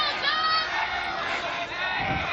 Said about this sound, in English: Crowd getting a little loud too, Brian.